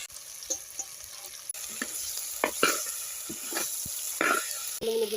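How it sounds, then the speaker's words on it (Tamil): Chopped bitter gourd sautés in a pan, giving a soft continuous sizzle under repeated scraping and stirring clinks from a spoon, close and fairly quiet. "அரிஞ்சு வச்சுக்கிற பாவக்காயும் போட்டு வதக்கிக்கலாம்."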